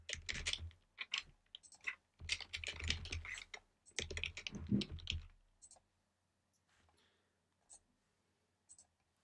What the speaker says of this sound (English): And if we just start typing in,